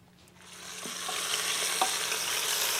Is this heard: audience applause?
no